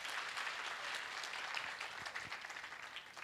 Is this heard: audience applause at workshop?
yes